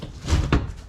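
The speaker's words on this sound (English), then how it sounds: "now you're supposed to be able to just push this forward and it comes off." A trim panel pops loose from a 2020 Toyota 4Runner with two quick, muffled plastic thumps close by, one right after the other, and no speech.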